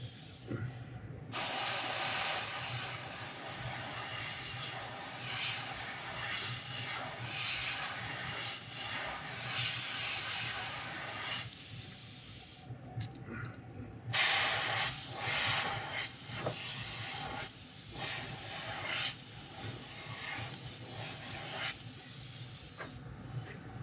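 An airbrush sprays red paint onto a custom Wiggle Wart fishing lure in a steady, close hiss, broken by short pauses near the start and in the middle before the spraying resumes.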